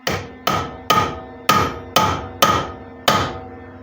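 Seven sharp ringing strikes of a hammer on a cold chisel cut a V-notch into metal for a welding craft piece, loud and close, evenly spaced about half a second apart with bright metallic decay.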